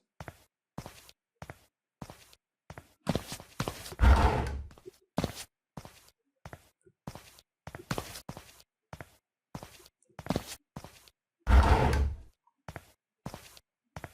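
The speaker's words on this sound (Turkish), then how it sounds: "Adamın sesini, ayak sesini duyarım şu anda." A man's footsteps in the stealth game Sneak Thief land in an even, regular rhythm, close and crisp against silence, with two louder rumbling thuds partway through.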